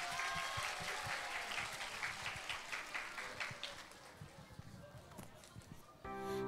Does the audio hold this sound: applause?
yes